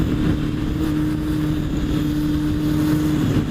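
Motorcycle engine droning steadily at around 60 mph while leaning through a roundabout, a loud, continuous hum with wind rush and no voices.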